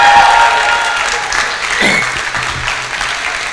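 An audience cheers and applauds at a student union leadership election results announcement, a loud, dense burst of clapping that fades slowly over several seconds.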